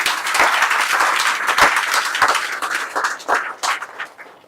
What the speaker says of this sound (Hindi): समझ में आती हो तो जरा बजाओ अपने लिए ताली